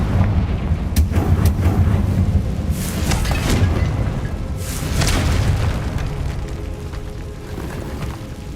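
Confringo explosive spells burst repeatedly in Hogwarts Legacy, a series of heavy booms with rumbling tails that roll one into the next over a dense, stormy background.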